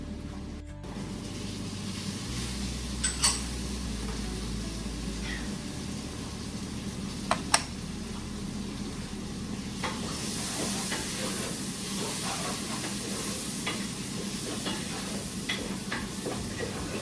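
Peppers for a spicy South African chakalaka vegetable relish sizzle in a pan while being stirred. A steady, soft hiss is broken by a few faint clicks of the utensil.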